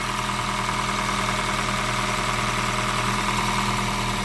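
A Honda Fit GP5 engine idles steadily and evenly, a continuous mid-pitched rumble with a faint rhythmic knock, close by and without voices.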